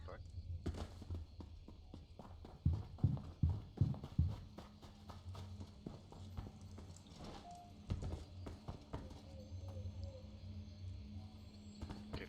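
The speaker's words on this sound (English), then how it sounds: "Okay, Phasmophobia footsteps. I was wondering what the hell that was." Footsteps from the video game Phasmophobia make a faint series of dull, irregular clomping thuds, clustered and then spread out, low in the mix beside quiet game ambience and a voice speaking.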